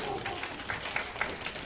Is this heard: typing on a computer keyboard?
no